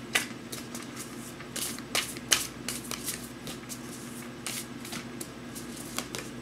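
Deck of magical spell oracle cards being shuffled by hand, a steady run of soft papery riffles and flicks, close and fairly quiet, with no talking.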